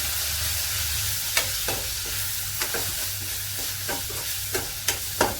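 Potato masala with Kashmiri chilli powder being stirred in a pan, a soft sizzle under repeated scraping strokes of the spoon, close and fairly quiet with no talking.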